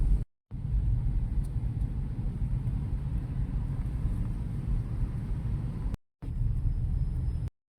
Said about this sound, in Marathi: हे लोणावळ्याचं ट्रॅफिक,